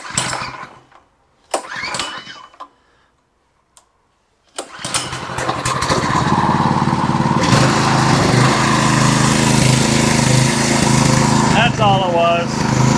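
A Predator 212 cc small engine running on a straight pipe with the choke open and throttle about halfway; after a few short cranking bursts and a silent pause it fires and settles into a loud, steady, raspy drone that continues to the end.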